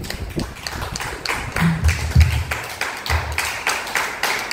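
A church congregation claps in a steady, ongoing patter of hand claps, with some low thumps mixed in, heard from within a reverberant room.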